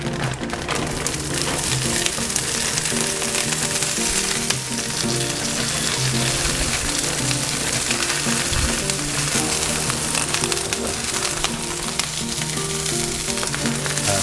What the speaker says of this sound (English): Let me saute the green beans and the roasted red peppers.